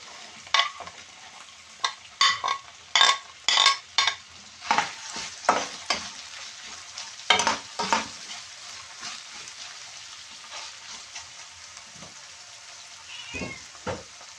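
Celery sizzling in a pan with ground beef, with a series of sharp stirring scrapes and crackles near at hand, then quieter frying toward the end; no talking.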